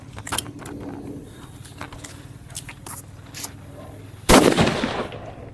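An atom bomb Diwali firecracker goes off with one loud, sharp blast close by, after several seconds of faint crackling and small pops.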